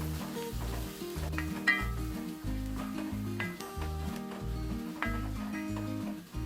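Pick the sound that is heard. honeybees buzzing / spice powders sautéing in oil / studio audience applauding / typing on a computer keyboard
spice powders sautéing in oil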